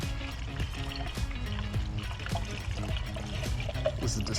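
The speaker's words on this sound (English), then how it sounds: "And then we put in some water." Distilled water pours steadily into a car radiator with a gurgling, trickling sound, fairly close, amid faint background hum.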